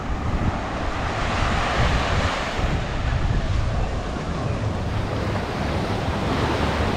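Wind blowing across a beach in Aruba, a constant loud rush and buffeting against the microphone mixed with a surf wash, with no voices.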